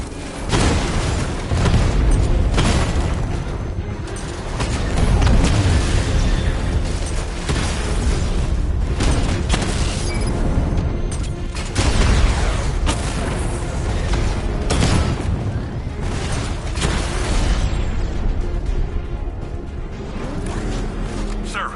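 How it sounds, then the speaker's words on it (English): Batmobile 60mm cannon rounds strike heavily armored units in Batman: Arkham Knight, producing a dense, continuous barrage of loud booms and blasts layered over thick game audio throughout. "Your 60mm cannon will penetrate these heavily armored units, but it'll take a few direct hits to destroy them."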